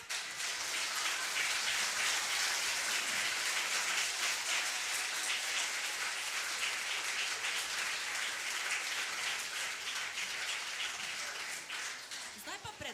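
Sustained applause from an audience at a regional gathering of kindergarten children's choirs in Šentilj, a dense, steady wash of clapping lasting the whole stretch without a break.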